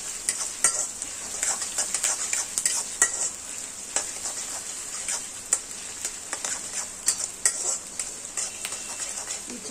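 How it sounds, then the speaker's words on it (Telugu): Onions frying in a pan for chicken fry, a steady loud sizzle with frequent scraping stirs and utensil ticks against the pan, close up and without speech. "బాగా వేగాలి ఉల్లిపాయలు"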